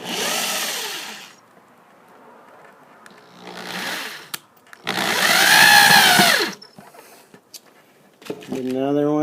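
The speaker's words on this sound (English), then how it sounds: "then we're just going to drill it right on into there." Cordless drill driving a screw into a nylon fabric canoe seat: three whirring bursts of rising and falling motor pitch, the longest in the middle, with short clicks and a voice at the very end.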